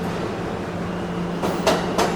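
A Seoul subway train on an ordinary morning commute, heard as a steady low rumble with a humming drone and a few brief brighter bursts near the end, close and continuous with no talking.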